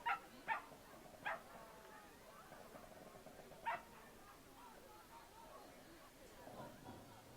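A poodle competing at a dog agility event gives a few sharp, distant barks and yips early on, with a final bark midway, over faint arena background and a quiet commentator's voice.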